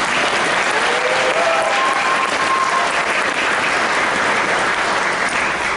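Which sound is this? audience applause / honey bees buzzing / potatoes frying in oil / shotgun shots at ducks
audience applause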